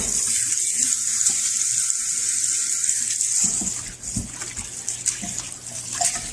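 Cold water runs from a kitchen tap, rinsing stock bones in a steady, close hiss that shifts partway through as the flow meets the bones and pot, with no talk over it.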